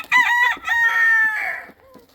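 Nearby chickens cluck while a rooster lets out a short, strained crow, loud and close, fading at the end.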